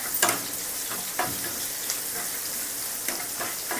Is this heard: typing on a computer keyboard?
no